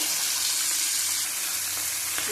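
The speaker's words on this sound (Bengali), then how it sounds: "ইলিশ মাছগুলো হালকা ভেজে নেবো" Hilsa fish frying lightly in a pan, a steady close hiss of oil with a watery, running-tap-like texture throughout, no talking.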